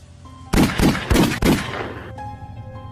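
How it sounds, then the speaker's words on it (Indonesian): A quick burst of four loud, close gunshots, each sharp crack following the last in rapid succession, then a fading ringing tail. "suara letusan peluru mengenai kaki Suroso saat itu"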